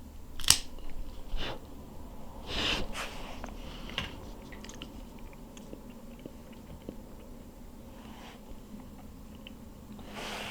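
A cigar cutter clips the end of a Nicaraguan cigar: a couple of sharp close snips early on, followed by faint handling rustles and quiet background hiss.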